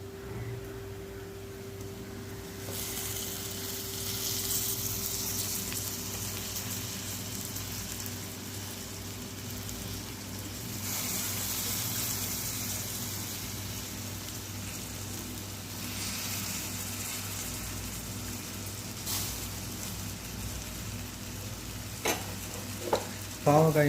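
Salted, turmeric-coated bitter gourd pieces sizzle steadily while frying in a pan, with stirring scrapes partway through and a few louder clatters near the end, no talking.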